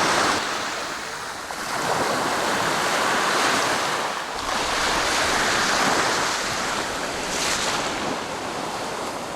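Ocean waves surging and breaking in the Maldives, continuous loud roaring surf with rhythmic swells every few seconds, mixed with wind buffeting the microphone.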